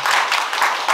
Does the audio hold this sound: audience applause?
yes